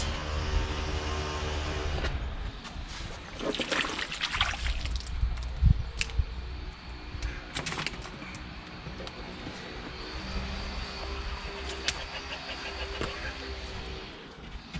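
Water poured out of a soaked plant pot while fuchsias, strawberries and potatoes are prepared for the growing season, an irregular trickle and splash over a steady background hum.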